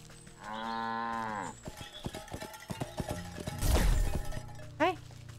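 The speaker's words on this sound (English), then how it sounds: "Yeah, the cow's right here." A cow in the video game Wytchwood gives a long, loud, drawn-out moo, followed by clopping hoof-like taps, a crashing shatter and a short rising animal call near the end.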